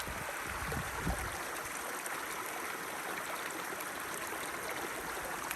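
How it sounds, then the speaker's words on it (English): A stream flowing beside a hiking trail in Conifer, Colorado, a steady broadband rush of water that holds close and even throughout with no talk. "We're now on the last half of the trail, and the water's flowing."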